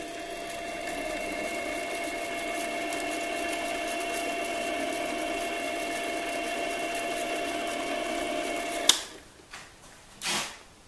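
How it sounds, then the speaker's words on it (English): A milling machine chamfers drilled holes in a metal part, a steady whirring machine drone that runs evenly for several seconds and then cuts off, followed by a couple of brief clunks. "Now I'm going to run this, I'm going to chamfer the holes to put a taper into the opening."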